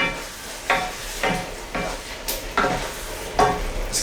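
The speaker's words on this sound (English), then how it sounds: "Just keep mixing that up" Ground cumin, cinnamon and coriander are stirred in a hot pan for a vegetarian chilli, with about five rhythmic scraping strokes over a soft background sizzle, close and clear, with no one talking.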